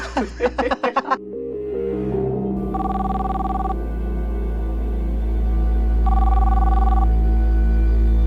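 A phone rings twice in steady, evenly spaced electronic trills after some brief clattering, with a low continuous hum underneath and no talking.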